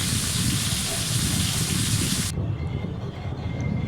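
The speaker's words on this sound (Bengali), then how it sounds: "একটা চাটুর মধ্যে এরকম একটু ভেজে নেব তেল দিয়ে" Eggplant slices frying in oil on a flat griddle pan, a loud dense crackling sizzle that drops to a quieter, steadier fry partway through, with no talk.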